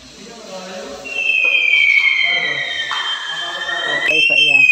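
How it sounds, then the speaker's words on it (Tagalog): An electronic fire alarm tone from a fire alarm panel during testing sounds loudly and steadily, a high whistling pitch that shifts slightly, with faint voices underneath. "Zone 1, fire alarm."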